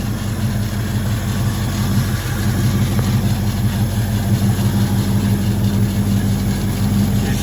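A 1970s Ford Mustang engine runs steadily under the hood, a loud, even low idle that chugs continuously from start to finish, with no other sounds.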